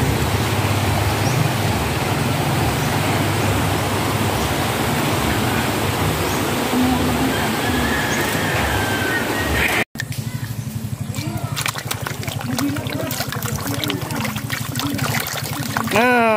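Steady broadband rush of flowing river water in the rural Philippine countryside fills the scene, loud and continuous, with a brief dropout midway and faint clicks afterward.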